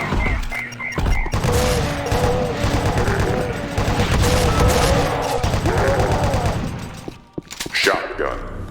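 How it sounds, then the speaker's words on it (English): Shotgun blasts and game effects from the video game Doom, loud and dense through most of the stretch, with speech-like sounds mixed in before things drop away near the end. "Shotgun. That was very nice."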